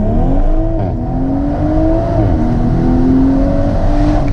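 A 2020 BMW Z4 M40i accelerates hard toward 60 mph from close by, its loud engine note rising in pitch through the gears, with brief dips at each shift. No one talks.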